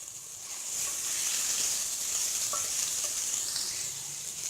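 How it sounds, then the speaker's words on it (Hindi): Minced keema fries in a pan with a steady, quiet, hissing sizzle, close and continuous, with a few faint stirring ticks and no voices. "करीब 2 मिनट में भून लेती हूँ।"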